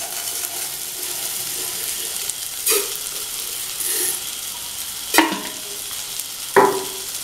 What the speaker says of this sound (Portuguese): Agora que já deu uma refogadinha, eu vou colocar o nosso arroz.